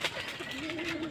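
Racing pigeons cooing softly at close range, a brief low rolling coo that is fairly faint.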